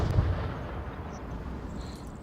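A grenade goes off in the VR shooter Onward during a competitive league match, giving a low, heavy boom right at the start that fades into a dull rumble. No one speaks.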